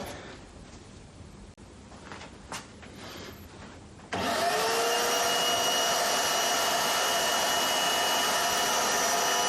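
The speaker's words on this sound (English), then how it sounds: "just go into my vacuum cleaner and just use that for your chip extraction" A vacuum cleaner used for wood chip extraction in a workshop switches on partway through, its steady loud roar and whine continuing after a few seconds of quieter clattering.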